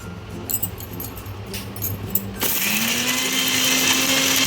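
A mixer grinder pureeing banana flower into a paste, starting after a few handling clatters and then running as a loud, steady whirring motor whine close by.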